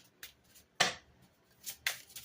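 Tarot cards are shuffled by hand in a few quiet, short riffling bursts separated by silence.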